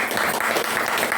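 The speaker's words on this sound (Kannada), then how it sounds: "ಚಪ್ಪಾಳೆ" Audience at a devotional quiz event bursting into a short, dense round of applause, loud and close for just over a second.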